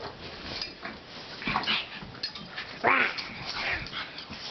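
Dogs fight with snarling, yipping and whimpering growls that come in uneven bursts, moderately close, with louder outbursts midway and toward the end.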